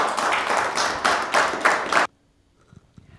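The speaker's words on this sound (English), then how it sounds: "Let's give him another round of applause." A small audience at a veterans' community poetry program claps in a steady, close patter of hand claps that stops abruptly after two seconds, leaving near silence with faint room noise.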